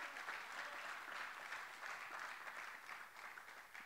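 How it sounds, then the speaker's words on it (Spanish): A church congregation claps in sustained, even applause in praise of God's name. The clapping is steady, dense and fairly soft, with no voices over it. "Denle un aplauso de gloria y de bendición a su nombre."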